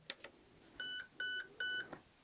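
Three identical electronic beeps from an airsoft electronic trigger unit being programmed, each about a quarter second long, evenly spaced and clear, with a couple of short clicks before them.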